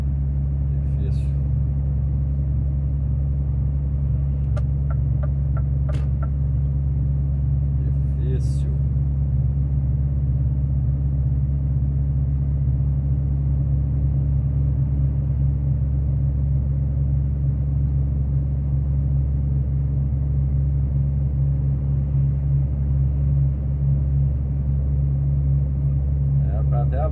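Heavy, slow-moving traffic on highway BR 101 in southern Bahia gives a steady, droning low engine rumble that stays loud and unbroken throughout, with a few faint clicks near the start.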